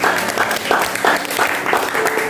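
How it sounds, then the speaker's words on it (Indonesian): Congregation at an Easter retreat applauding together, a dense, continuous wash of clapping from many hands with a rhythmic pulse, loud and steady throughout. "Tepuk tangan buat Tuhan"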